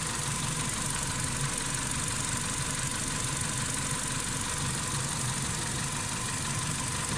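An idling car engine with a hydraulic lifter knocking sends out a fast, steady ticking clatter over a dense, constant mechanical hum, heard up close without any voices.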